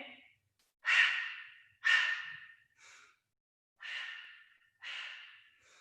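Slow, audible breaths in and out during a Pilates mat session, five or six airy exhales spaced about a second apart, close and fairly quiet with nothing else around them.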